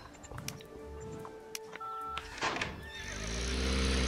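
A horse whinnies in a horse-riding video game, a rising, shaky neigh that stands out over game tones and light clicks, followed by a swelling steady background sound.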